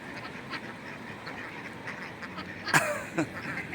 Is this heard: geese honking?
yes